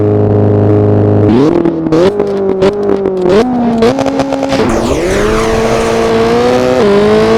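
Rally car engine in Richard Burns Rally, loud and close, idling low then revving up through repeated rising gear steps with a steady throttle climb and no voices.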